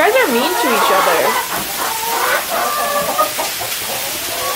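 Chickens cluck and squawk inside a chicken coop, several birds close by calling in overlapping bursts, busy and fairly loud throughout.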